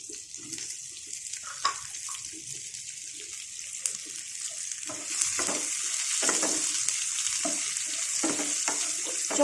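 Onions and potatoes frying in a pan for a fenugreek-leaf, tomato and onion curry, a continuous close sizzle with repeated scraping stirs of a spoon, no voices.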